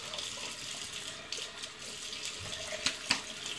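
Tap water runs steadily into a sink for rinsing during a wet shave with Williams mug soap, a soft continuous splash with a couple of sharper drips near the end.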